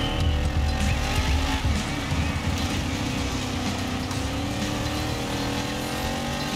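A race car in a racing video game, with a loud continuous engine drone and shifting tire noise sustained throughout, no talking.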